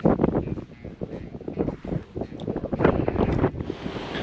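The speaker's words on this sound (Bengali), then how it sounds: "যা হাওয়া, দাঁড়ানো যাচ্ছে না।" Strong gusting wind on a high Himalayan mountain trek roars and buffets the microphone, loud and close, rising and falling in rough gusts with no one speaking.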